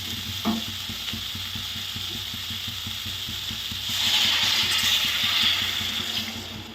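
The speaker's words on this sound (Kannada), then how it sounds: "ಚೆನ್ನಾಗಿ ಮಿಕ್ಸ್ ಮಾಡಿ ನೀರು ಹಾಕಿ ಒಂದು 5-10 ನಿಮಿಷ ಕುದಿಸಿದ್ರೆ ಪಲ್ಯ ರೆಡಿ ಆಗೋಗುತ್ತೆ" Eggplant palya (curry) being stirred in a pan, with a steady rhythmic scrape and clack of the spoon against metal over a soft sizzle that swells louder partway through; no voices.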